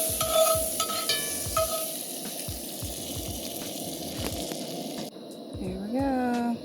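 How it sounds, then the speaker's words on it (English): Butter sizzles and crackles in a hot cast iron pan, a steady frying hiss with stirring scrapes, while a person talks over it outdoors at Grand Mesa National Forest. "Yeah, I don't want that butter sizzling."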